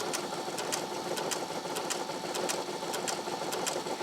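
A Brother BQ950 sewing machine running a locking stitch on fabric, a steady close whirring with fast regular needle ticks throughout, no talk.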